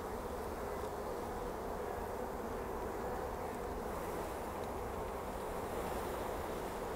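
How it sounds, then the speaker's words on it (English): Dense, steady buzzing of many honeybees around a Nicot queen cell frame during a hive check, a continuous close hum with no talking. "Lots of bees,"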